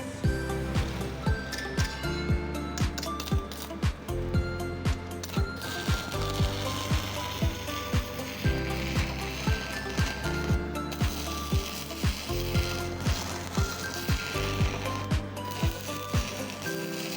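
Arc welding with a repaired ARC 300 welding machine that had an output diode fault: a steady crackling, sizzling arc with rhythmic pulsing repeating all the way through.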